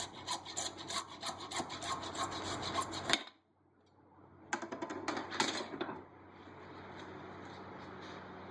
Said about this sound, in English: We're just going to cut an angle on this.